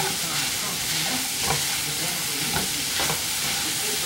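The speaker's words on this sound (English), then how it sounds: "Stir it on up." A vegetable rice stir fry with peas and broccoli sizzles steadily in a pan while being stirred, a constant loud frying hiss broken by a few scraping stir strokes close by.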